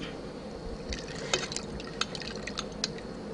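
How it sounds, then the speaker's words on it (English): Hot water dripping and trickling from a wrung-out towel, a faint steady liquid patter broken by a few small splashy drips, close by and without voices. "I just wring it out"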